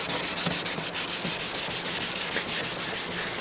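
A headlight lens being hand sanded with sandpaper wrapped over a backing block gives a steady, close, dense rasping rub that continues without a break and with no talk.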